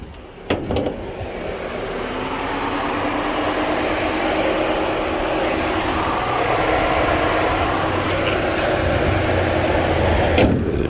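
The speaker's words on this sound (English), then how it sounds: "You can hear the engine." A 2011 Ford Edge engine starts with a brief clatter and then idles with a steady, even hum close by, running smoothly and alone for about ten seconds.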